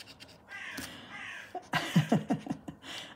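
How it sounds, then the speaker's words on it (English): A crow caws outdoors, a short run of harsh, rasping calls repeated in quick succession at moderate distance, with a few fainter calls before them and no speech. "that bird ain't going to shush, is he?"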